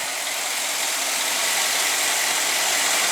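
The original, never-rebuilt engine of a restored Cadillac idles smoothly and steadily, a continuous close hum with no talking over it.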